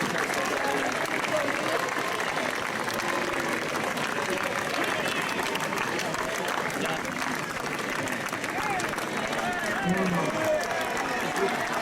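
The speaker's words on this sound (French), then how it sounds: "Alors on applaudit très fort" A crowd at a Basque strongman competition, during the cart-lifting event, applauds in a steady, continuous roar of clapping that runs the whole length, with voices murmuring underneath.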